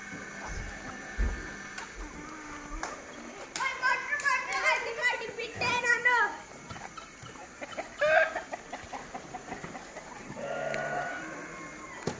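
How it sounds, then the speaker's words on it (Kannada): Native country chickens cluck intermittently while grazing on a farm, moderately close, mixed with people's voices and other farmyard sounds. "ನಮ್ಮ ನಾಟಿ ಕೋಳಿಗಳು ನೋಡಿ"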